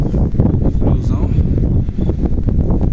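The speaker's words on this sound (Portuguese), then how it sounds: "Esfriou um pouquinho. Ventania." Strong wind buffeting a microphone outdoors while fishing, a loud, continuous rumbling roar with gusty surges throughout, with faint talk partly buried beneath.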